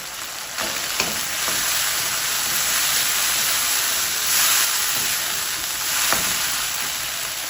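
Peas and tinda vegetables fry in a pan with a steady, loud, hissing sizzle, broken by a few light scrapes of stirring, and no one talking.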